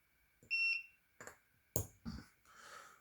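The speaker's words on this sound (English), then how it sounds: "So I put it on, the machine beeped, and then it did the weld." A cheap AliExpress spot welder beeps before welding a battery cell: a short electronic tone, followed by a few loud, sharp snapping bursts as the weld fires, close and fairly quiet overall.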